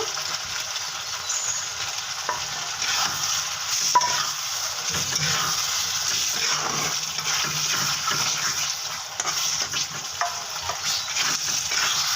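Salted hilsa fish sautéing in spiced oil in a pan, a steady close sizzle with frying crackle and occasional stirring scrapes throughout, no voices.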